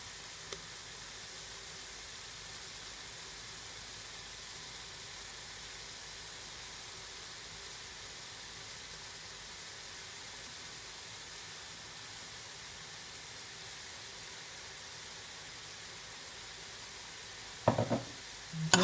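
Spinach dropped into a hot pot gives a steady, even sizzle and hiss that carries on quietly for a long stretch, ending with a couple of brief clatters from a utensil against the pot.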